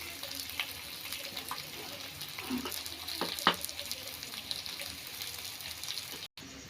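Chopped mutton fat with salt and turmeric fries in a pan while being stirred, a soft steady sizzle broken by occasional light scrapes against the pan.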